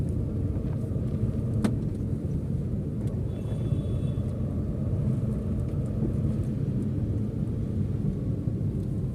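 Car engine drone while driving at night and dropping from fourth to third gear, a steady low rumble with road noise that stays even throughout, with no talk.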